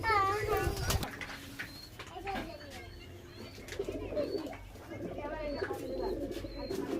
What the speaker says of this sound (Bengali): এই দেখুন এটা মাদা পায়রা আছে।